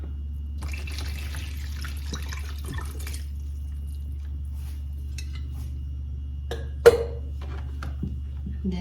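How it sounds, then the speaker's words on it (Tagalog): Cold water running into a cooking pot with lemongrass and thyme, a steady close trickle under a low hum, with a brief clatter near the end. "Then some cold water."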